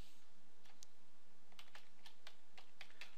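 Quiet clicks of a password being typed on a computer keyboard, a few isolated keystrokes followed by a quicker run of taps in a hushed room.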